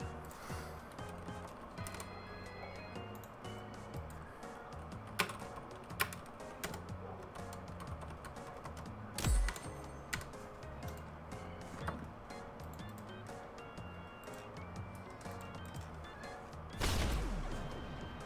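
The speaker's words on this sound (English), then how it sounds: "Typing." Steady, close keyboard typing with irregular key clicks throughout an online game session, with a few louder knocks and a sharp burst near the end standing out over the continuous clatter.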